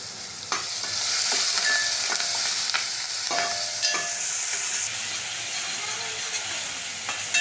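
Green chili thecha masala frying in a pan while being stirred to cook off the raw chili; a continuous hissing sizzle with repeated scraping strokes of a spatula, close and steady, no voices.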